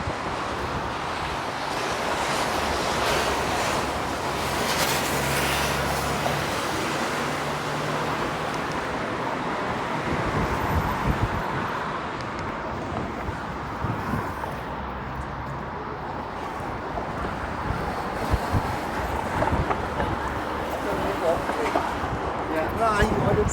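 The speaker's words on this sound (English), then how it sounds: "And there's a nice gust of wind right now." Gusts of wind buffet the microphone on a Midtown Toronto residential street, producing low rumbling blasts that rise and fall, with a voice heard at times.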